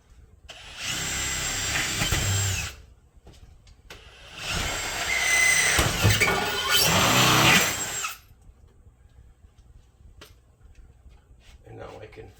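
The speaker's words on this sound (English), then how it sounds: "so now I'm going to drill through the wall" A power drill boring through a greenhouse wall, two loud sustained whining bursts of about two and four seconds separated by a quiet pause, close by, with quiet room sound after.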